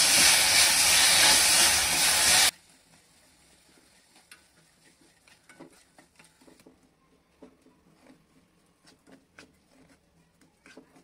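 Sugar and a spoonful of water stirred in a pan over the lowest gas flame for sesame papdi: a loud hiss for two seconds, then faint, scattered scraping taps of the spoon in near silence.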